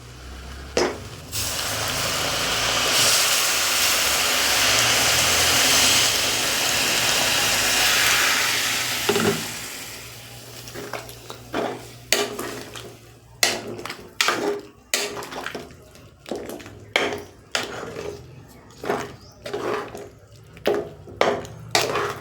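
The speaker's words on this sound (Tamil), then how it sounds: "இப்போ நான் ஜக்கில் சுடு தண்ணி வச்சுருக்கேன், அதை இப்போ சேர்த்துக்கலாம்" Hot water pours steadily from a jug into a pot of vada curry for several seconds, then gives way to clinks and stirring clatters of a utensil against the pot.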